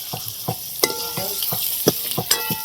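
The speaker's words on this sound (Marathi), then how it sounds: "फोडणी देऊन घेते आता. भाजीला" Spices crackling in hot oil in a kadhai for a tempering, a close sizzle broken by rapid sharp pops and spatters every fraction of a second, with no talk.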